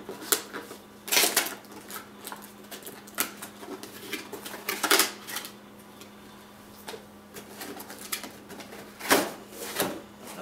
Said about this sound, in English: So let's unwrap these and see how they are, just comfort-wise.